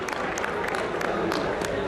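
Audience applause welcoming guests at a Red Fort poetry gathering, a dense patter of clapping mixed with crowd murmur, fairly quiet and brief.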